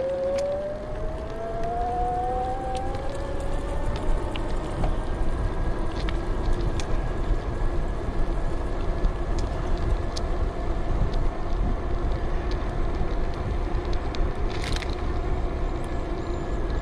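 A Geleisen TTS1 budget ebike running on throttle only gives a steady motor whine with a rising tone near the start, under continuous wind rush and road noise and no talk.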